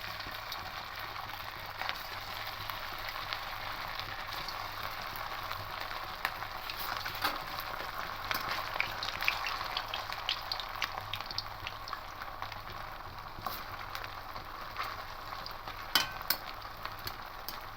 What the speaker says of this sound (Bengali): এবার একে একে এগুলো সব ভেজে নেবো